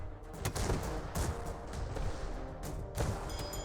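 Grape-shot cannons and rifles fire together in a battle in the airship strategy game Airships: Conquer the Skies, a dense, steady barrage of overlapping shots and crackling volleys with a few sharper bursts standing out.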